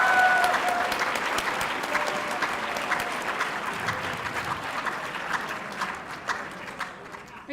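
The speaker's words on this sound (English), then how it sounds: "A round of applause, please." A school audience at Mansfield High School applauds Congressman Joe Kennedy, with a thick, sustained wash of clapping that starts strong and slowly fades over several seconds, and faint voices mixed in.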